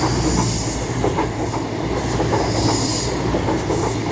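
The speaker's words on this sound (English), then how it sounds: "The next train to be coming through will be a cross-country Voyager running from Bristol Temple" A Cross-Country Voyager train roars through Cheadle Hulme station on the West Coast Main Line, a loud steady rumble of wheels and engines with faint clickety-clack, close and continuous throughout.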